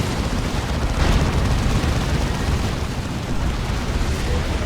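Rumbling, booming blasts from the Dawn of War 2 real-time strategy game, the Land Raider Redeemer battle among Space Marines; a dense, continuous roar of loud explosions with one stronger burst near the start, no voices.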